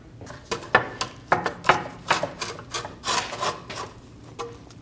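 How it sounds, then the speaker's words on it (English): A pry bar works a front lower control arm out of a 2012–2022 Volkswagen Passat, with repeated close metallic scraping and grinding strokes and some clunks in an uneven rhythm. No one speaks. "I'm going to use a pry bar and push it out the front"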